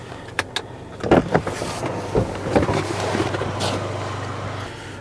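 Cabin sound from a Chevrolet Colorado ZR2 pickup truck on the move: a steady low engine and road hum with wind rush, broken by a few clicks and bumps, with no speech.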